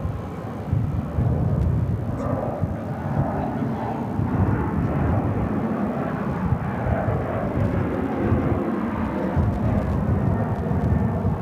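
Airliners, including an A330-300, take off at Phoenix airport with a loud, steady roar of engines and rushing wind that holds for the whole stretch, without any voices over it.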